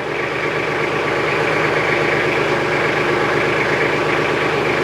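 A tractor engine idles loud and close with a steady low rumble and even mechanical throb, holding constant throughout with no speech.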